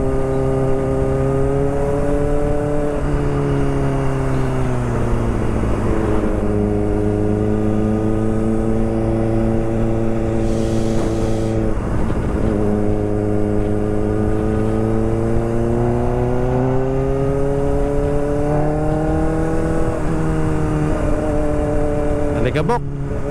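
A car engine revs hard at very high RPM, a loud, sustained drone whose pitch dips and climbs as the throttle changes, close by, with someone speaking over it.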